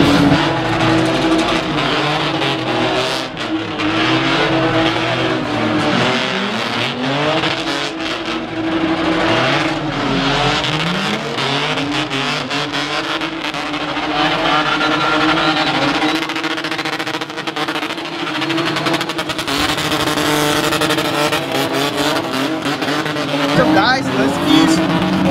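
A car spinning at a Cape Town spinning motorsport show, engine revving hard while tires squeal and skid almost continuously, loud and close, with crowd voices and talk mixed underneath.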